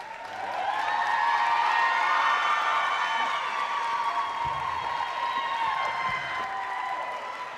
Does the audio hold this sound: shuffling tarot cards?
no